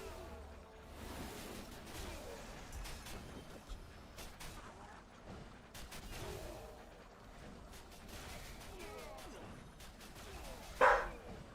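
A dog barks a few times at nothing, the sharp yips spaced apart and fairly faint against a quiet room, with one louder bark near the end.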